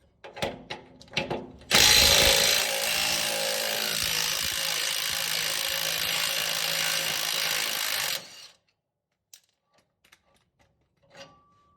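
Power tool run in reverse to remove a lower rear shock bolt on a Ford F250 pickup, a loud sustained whirring burst of about six seconds, with a few clanks before and faint tool handling after.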